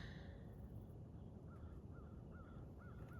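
Crows calling outdoors, a faint series of short caws repeating every half second or so over a steady background hum, distant and with no talking.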